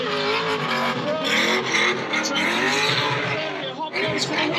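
A racing car engine screams at full throttle as the driver opens it up early, with its pitch sweeping and climbing in loud, close waves and possible tire noise mixed in.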